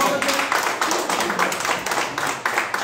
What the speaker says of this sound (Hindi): जोरदार तालियों के साथ, तालियों के साथ